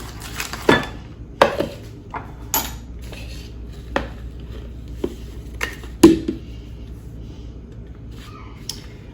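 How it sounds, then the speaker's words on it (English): All-butter pie crust dough being dumped from a food processor bowl onto a counter brings a scattered series of sharp knocks and clatters, roughly eight distinct hits with quiet gaps between them. "when I use the food processor, I usually dump it out onto my counter"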